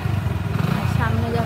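A motorcycle moving through a traffic jam during Durga Puja, its low engine chugging steadily up close while a voice speaks over it.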